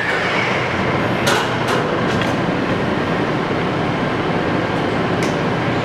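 Kingston HD 26x120 lathe running at its top speed of 1200 RPM, giving a steady, loud mechanical hum and rush with a few faint high clicks.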